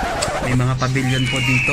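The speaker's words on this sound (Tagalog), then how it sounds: "tapos marinig mo yung tunog ng mga ibon." Birds coo and call in a hotel garden with pavilions, sunflowers and flowers, the soft bird sounds running beneath a person speaking close by.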